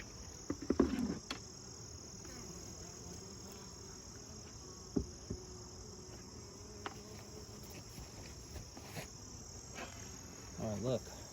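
A low, steady buzz of bees at a mating nuc hive hums throughout, with occasional soft knocks and rustles and faint handling noises near the start and end.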